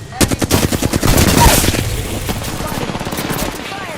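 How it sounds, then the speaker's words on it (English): Rapid automatic gunfire in the battle royale game Apex Legends, a dense close burst of repeated shots followed by a heavy boom and fading rumble, with in-game voice lines in the mix. "firing on our foes"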